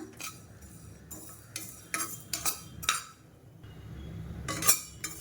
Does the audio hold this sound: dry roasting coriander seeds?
yes